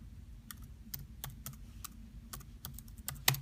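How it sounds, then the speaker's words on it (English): Keys clack on a computer keyboard in a quick, irregular typing burst, crisp and close, with a low background hum and no voices. "I'm going to go to this bar at the top here and type in Fba"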